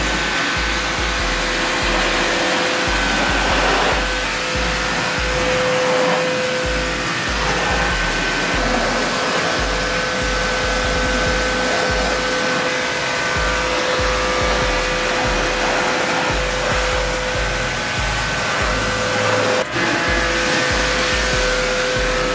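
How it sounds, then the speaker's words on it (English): An electric blow dryer roars steadily and loudly at close range as it blasts excess rinse water off a Harley-Davidson motorcycle, a continuous whooshing drone with a low rumble underneath and no speech. "So we just have an electric blow dryer here, and we're gonna blow off all the excess water at this point."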